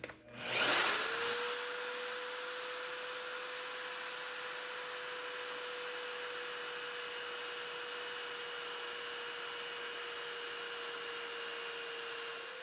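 A magnetic drill cutting into a vise handle, its motor spinning up sharply at first and then holding a steady, fairly quiet whine with a faint grinding texture to the end.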